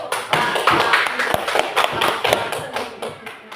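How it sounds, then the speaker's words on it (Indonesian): A classroom of students gives brief applause for a classmate who answered, a quick patter of claps and taps close by. "Oke, kasih aplaus buat yang jawab itu."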